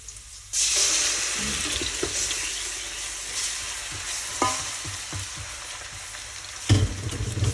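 Garlic hits a hot pan and sizzles steadily, with a few scraping stirs and clinks, and a louder burst of frying near the end.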